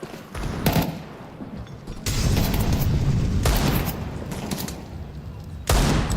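Rapid gunfire and grenade bursts in a Counter-Strike grand final match, loud and dense, with fresh volleys starting around two seconds in and again near the end.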